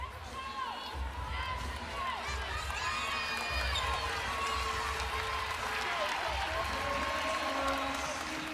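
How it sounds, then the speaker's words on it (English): Fans in an arena at an NCAA women's basketball Elite 8 game between Ohio State and Virginia Tech applaud and cheer steadily. Sneakers squeak on the court, and a commentator talks over the crowd. "Virginia Tech fans also applauding the effort here from McMahon"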